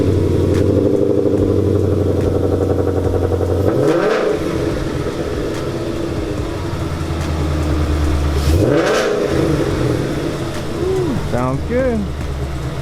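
Mazda Miata with a K-series engine swap and freshly made headers idles loudly and steadily, with a few sharp revs blipping up and dropping back around the middle and end.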